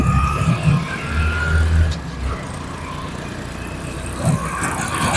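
A two-wheeler motorcycle pulling a bike trolley runs steadily close by, its engine droning with a brief swell of revving before settling into an even rumble.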